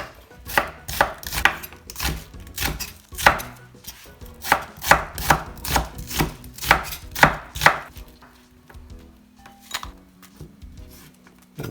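A knife chops an onion on a cutting board in a steady run of about a dozen crisp, close strikes, then stops, leaving a faint hum. No one speaks.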